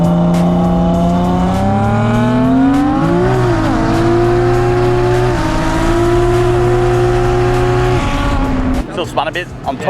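A 1000HP+ Nissan R33 GTST accelerating hard on a track, its engine climbing loudly through revs with a shift and tyre wheelspin, heard close and dominant before dropping off at the end, with people talking.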